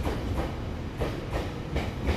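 A four-car local train on the Sendai Airport Access Line pulls into platform 5 at Sendai Station, its wheels clattering over rail joints in a regular clickety-clack rhythm, moderately close with no talk.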